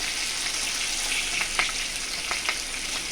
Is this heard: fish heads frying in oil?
yes